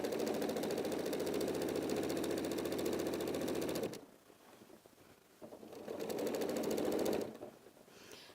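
Sewing machine stitching quilting fabric, a loud steady rapid needle chatter that runs continuously, pauses briefly, then resumes before stopping again.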